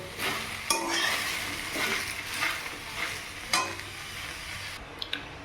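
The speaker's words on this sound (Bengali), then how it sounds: "যেখানে কড়াইতে আমি গুড় বসিয়ে দিয়েছি" Jaggery heating in a wok and being stirred, giving a continuous sizzle with irregular scrapes and metallic clinks from the spoon, close up and without speech.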